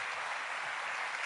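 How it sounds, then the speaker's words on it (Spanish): A church congregation claps loudly in praise, a dense, continuous wash of hand claps lasting about a second, heard alone without talking. "alabe al Señor con ese aplauso fuerte"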